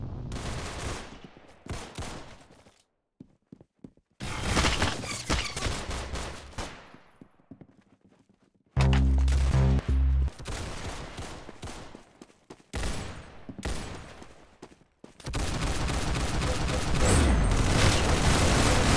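Gunfire in the video game Arsenal: bursts of rapid automatic shots and single booming blasts, loud and close, broken by short pauses across the stretch, with no talk over them.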